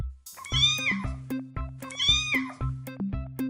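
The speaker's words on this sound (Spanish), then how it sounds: "Como hace el gatito, miau miau." A domestic cat meows twice in close succession, each call a clear, drawn-out rising-and-falling cry, heard up close over a soft, steady low background tone.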